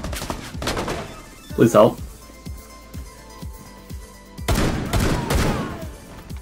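Gunfire rings out in Rainbow Six Siege during a Terrorist Hunt round, with sharp shot bursts near the start and again toward the end, while a player's voice briefly talks over the action.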